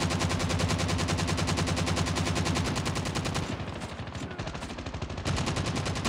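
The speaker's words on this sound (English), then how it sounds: "They increased slightly the fire rate of the LK-24" Rapid automatic fire from the LK-24 rifle in Call of Duty Mobile, a steady loud stream of shots that briefly thins in the middle before resuming at full pace.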